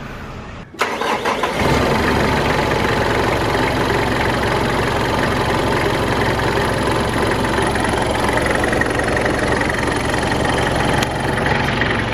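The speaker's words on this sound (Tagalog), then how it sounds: "Definitely more engine noise. Medyo mas rinig mo yung konting spool ng turbo." A Mitsubishi Pajero Fieldmaster turbo diesel with an upgraded air intake cranks and starts, then settles into a steady, loud, close idle with a faint turbo whine running through it and no talking.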